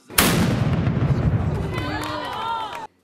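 A single loud ceremonial cannon salute booms and rumbles out at the opening of the Pezinok town festival in Slovakia, followed by crowd noise and cheering as the echo fades.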